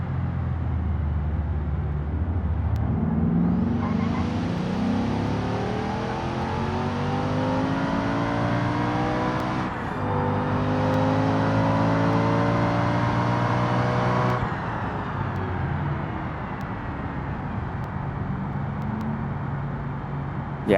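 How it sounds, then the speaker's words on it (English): A turbocharged ETK car in the racing game BeamNG accelerates through the gears. The engine tone climbs steadily, breaks briefly at each shift and then climbs again, loud and continuous, with no one talking. "It definitely sounds like the turbocharger is doing something more here"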